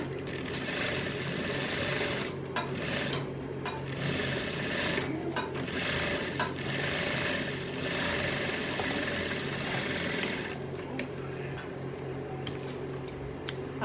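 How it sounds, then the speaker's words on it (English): Sewing machine stitching a half-inch seam along the top of a fabric collar, a steady close whirring run with small pauses and ticks, alone without talk. "I'm going to sew it 1/2 inch now, the top of it"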